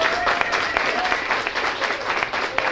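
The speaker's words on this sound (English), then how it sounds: "I want to give the speaker publicly a round of applause" A room of listeners breaks into steady applause for a speaker at a heritage center gathering, a close, even patter of many hands with a few sharper individual claps.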